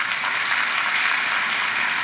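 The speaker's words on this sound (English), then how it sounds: "Let's give a round of applause to all the parents" An audience at an APIDA recognition celebration for graduates applauds the graduates' parents, with steady dense clapping filling the hall throughout.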